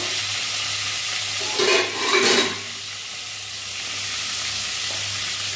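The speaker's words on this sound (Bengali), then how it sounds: "পটলগুলো আস্তে আস্তে ভাজা হয়ে যাচ্ছে" Potol slices sizzle in a frying pan, a steady close hiss broken briefly by a louder splash-like burst of stirring or spattering around the middle, then settling back to even frying.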